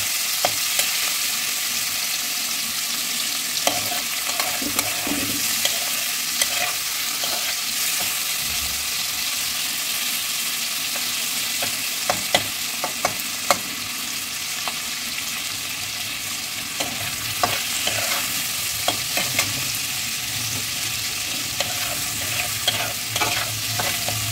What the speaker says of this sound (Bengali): বেশিক্ষণ ধরে ভাজবো না, একটু রং এলেই আমি এটাকে তুলে নেব।